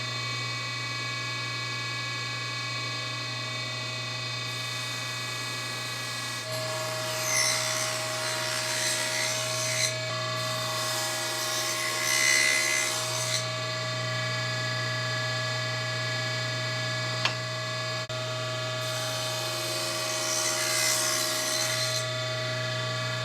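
Table saw with a spinning blade cutting through a piece of wood in a workshop; a steady motor hum runs throughout, with three louder rasping cuts, each lasting a few seconds, and no talking.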